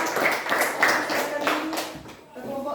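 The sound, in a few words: classroom applause for a student group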